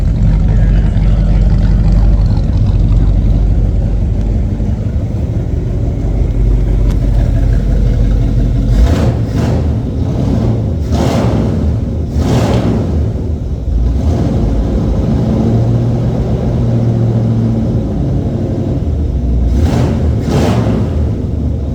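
A 1960 Pontiac Bonneville V8 runs loud and close with a rough, heavy idle, then gives several sharp revs in quick bursts, with a final pair of blips near the end.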